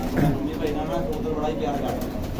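Pigeons cooing softly close by as grain is scattered for them, with a busy background hum and faint flutters as the birds gather to feed.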